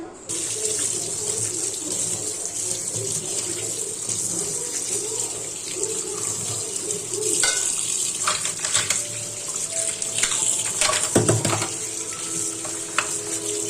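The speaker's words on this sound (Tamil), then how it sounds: "ஒரு தடவை இப்படி அலசி வச்சுட்டு அதுக்கப்புறம் நம்ம தேய்ச்சோன்னா நல்லா அந்த அழுக்கெலாம் போயிடும்." Tap water runs steadily into a sink while brass pooja vessels are rinsed under it, with occasional clinks and splashes of the metal pots breaking through the continuous close flow.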